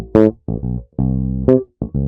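An electric bass plays a short funk phrase of clipped, punchy notes separated by quick silences, loud and close with no other instruments or voices.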